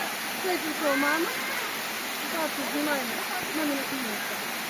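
Steady broadband rush of falling water, continuous and fairly close, with a voice speaking over it.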